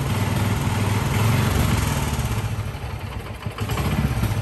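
Kubota mini tiller with a 6.8 PS engine running steadily nearby, a loud continuous rumble with mechanical clatter, easing slightly toward the end.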